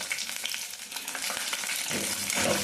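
Peanuts, garlic and green chillies sizzle steadily in a hot pan of oil while a Gongura chutney is cooked, with a dense, crackling frying hiss that swells louder near the end and some stirring clatter, no voices.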